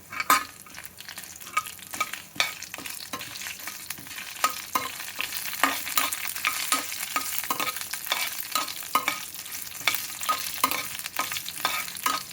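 Coriander seeds, cumin, garlic and dried red chilies fry in a pan, giving a steady close sizzle broken by repeated sharp scrapes of a stirring spatula, with no voices.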